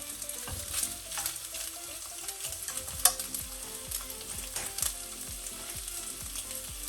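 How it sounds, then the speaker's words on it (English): Pork ribs frying over low heat in a pan, a steady close sizzle with occasional stirring scrapes and light clinks, no voices. "we are going to use low heat to fry the pork ribs a little bit."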